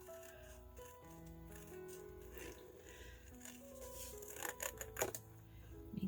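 Scissors snip through paper while making card kits, a series of small, close, crisp cuts and rustles that sharpen into a few louder snips near the end.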